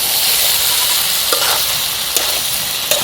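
Vegetable stems frying and being stirred in a pan over a village cooking fire, a steady loud sizzle with a few brief scraping knocks of the spoon, no voices.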